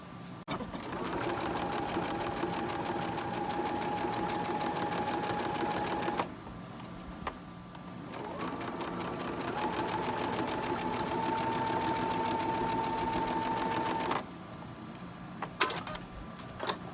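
Close sewing machine stitching quilt block fabric pieces, two long steady whirring runs separated by a short pause, ending with a few clicks as the fabric is handled.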